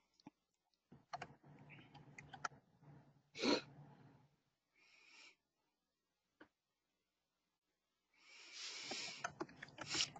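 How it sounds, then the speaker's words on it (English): Someone types on a computer keyboard over a live microphone during an online meeting about Census 2020 and the library. Irregular close clicks and short key bursts come with quiet gaps and a breathy noise in between. "And Mary Kay, your mic's live, so we can actually hear you typing"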